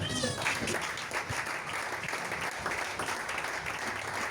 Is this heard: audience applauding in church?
yes